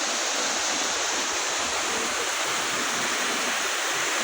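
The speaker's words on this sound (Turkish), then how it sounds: "Şelaleden akan suların birleştiği ve Bülümbür Çayı'na doğru yol aldığı vadi suyu diyelim artık bir akarsu var." Waterfall water pours steadily and loudly into a valley stream that flows toward Bülümbür Çayı at Dereova, a close, unbroken broadband rush with no voices over it.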